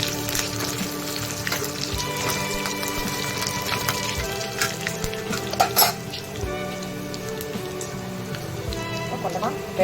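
Cumin, curry leaves and garlic spluttering in hot oil for a Tamil dal curry, a steady crackling sizzle with scattered sharp pops throughout.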